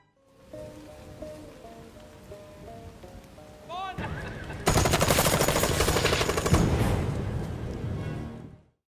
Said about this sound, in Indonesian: Lalu terjadilah aksi tembak-tembakan di antara Hamish dan Bill